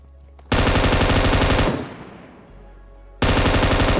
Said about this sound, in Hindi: लेकिन भाई पीछे से फायरिंग आती है जिस घर में से मैं आ रहा था